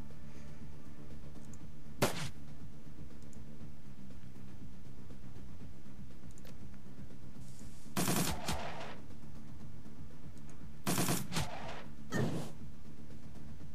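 Pistol fire in the video game Dragonfall: four isolated, sharp cracks spread across the stretch, one early and three close together later, standing out over a steady low background hum.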